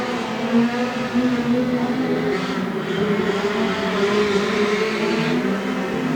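Speedcars roaring around a speedway track, engines droning loudly and steadily with a sustained pitched whine as the pack passes close by, the noise holding throughout without letting up.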